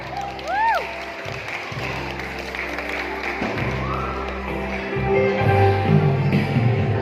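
An audience at a church Sunday school Christmas program claps for the children's performance. The applause is moderate and sustained, with a rise toward the end, over hall noise and a background tone.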